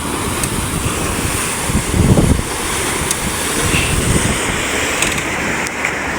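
Large Pacific Ocean waves surge and wash around a fishing boat at sea near an island, with strong wind buffeting steadily and a heavier swell building mid-way, continuous and loud with no voices.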